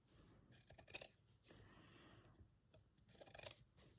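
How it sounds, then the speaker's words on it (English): Large scissors snip through paper while trimming a journal page edge, a few short crisp cuts in quick bursts separated by quieter sliding and rustling, close and fairly soft. "Get some bigger scissors."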